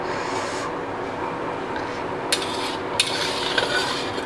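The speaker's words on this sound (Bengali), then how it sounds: "আর একটু জল দিচ্ছি।" Water poured into a simmering potato curry for paneer kofta makes a constant close hissing, bubbling wash, broken by a couple of brief sharp clinks from a utensil.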